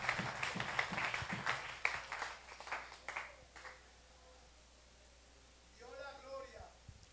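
A church congregation claps for Christ, a burst of loud, rapid applause that fades to quiet after a few seconds, with a voice speaking briefly at the end.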